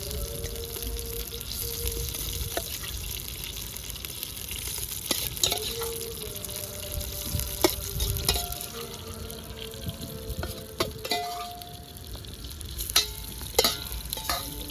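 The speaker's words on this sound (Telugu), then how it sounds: "ఆ రొయ్యలు తీసి దీంట్లో ఇలా వేసుకునేస్తాం." Prawns sizzle and fry in hot oil in a pan for Andhra-style gongura prawn fry, with steady close crackling and intermittent scraping stirs throughout.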